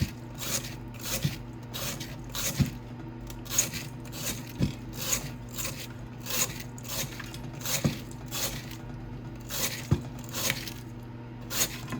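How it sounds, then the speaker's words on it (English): A tool scrapes silver from the inside of a bowl in slow, repeated strokes, each rasping pass rising and fading in a steady rhythm, close and fairly loud with no talk. "Now let's scrape down the inside of the bowl"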